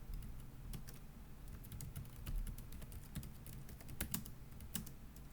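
Typing a command into a terminal on a computer keyboard, quiet and close, with irregular clusters of sharp key clicks spread across several seconds and no talking over them.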